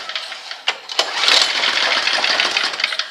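A John Deere snowblower engine sputters as it is pulled and catches after a carburetor adjustment, with a couple of sharp pull-start bursts before it settles into a loud, rough, steady running roar close by.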